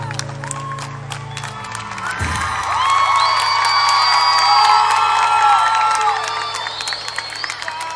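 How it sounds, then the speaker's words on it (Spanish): A crowd at a live recital cheers and claps, rising to a loud swell of whoops and shouts in the middle before thinning out, after a few seconds of music at the start. "¡Aplausos!"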